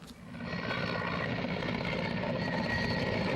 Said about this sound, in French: C'est par cet hélicoptère dépêché depuis Ouagadougou que ces élèves de Tueni, au nombre de 26 plus 4 parents d'élèves, ont pu rallier Tougan.